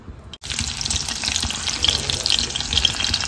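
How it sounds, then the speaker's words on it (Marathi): Green chillies dropped into hot Gowardhan ghee give a loud, steady sizzle and crackle that starts abruptly after a brief pause and continues without any talking. "हे गरम झालं की याच्यात लगेच आपण मिरची घालू।"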